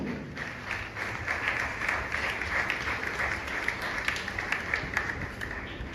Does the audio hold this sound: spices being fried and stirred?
no